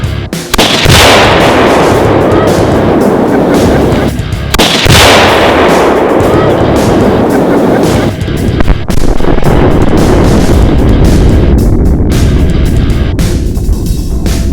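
Gryphon Energetics and Kaboom binary explosive targets are shot and detonate, giving powerful, very loud booms with long rolling echoes, several blasts spaced a few seconds apart outdoors.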